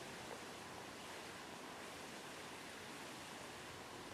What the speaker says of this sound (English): I don't know what that sound is. It's probably water flowing.